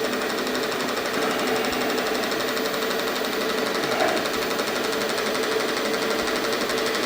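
A homemade grinder built from a recycled fencepost runs with a steady, loud mechanical whir and rapid buzzing chatter while wax is spread on it with a rag.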